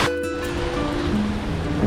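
Heavy rushing water at Manella waterfall in full flow, a steady broadband roar that stays loud and close without a break.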